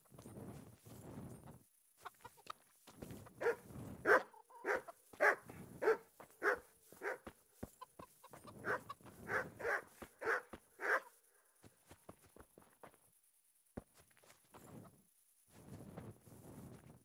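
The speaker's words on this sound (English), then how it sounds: "I just gotta be careful not to get too close to the dogs." Dogs bark in the medieval video game Kingdom Come: Deliverance, in short repeated volleys at low volume, with soft hoof clip-clops and rustling in between.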